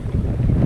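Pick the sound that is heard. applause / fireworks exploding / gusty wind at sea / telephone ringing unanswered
gusty wind at sea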